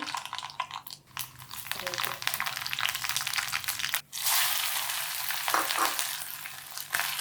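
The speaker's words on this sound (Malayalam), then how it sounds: "കടുക് പൊട്ടിക്കാൻ കടുകും കറിവേപ്പിലയും" Mustard seeds and curry leaves spluttering and crackling in hot oil while payar thoran is being started in a kitchen; a steady dense sizzle runs throughout, close and fairly loud, with brief dips and someone talking over it.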